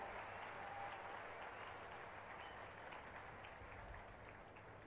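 Sustained applause from an audience at an awards ceremony in Ongole, a dense even wash of clapping that fades slightly toward the end, with no voices on top.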